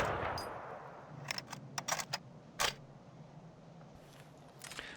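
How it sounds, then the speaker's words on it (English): Inside the Forgotten Hope 2 video game, a Panzerbüchse anti-tank rifle is loaded one round at a time, giving a few sharp metallic clicks and clacks in a short cluster, followed by a louder snap and then quieter handling noises. "it doesn't have magazines, but you load each bullet separately,"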